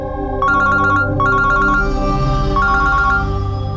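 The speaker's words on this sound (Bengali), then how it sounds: "শোনো মা, তুমি খাও, আমি একটু ফোনটা ধরি।" A mobile phone ringtone rings in repeated electronic bursts, loud and close, over a steady tonal background, with no one speaking.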